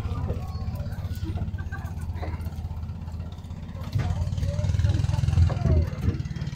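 A fishing boat's engine drones with a steady low hum that swells louder partway through, while people talk over it.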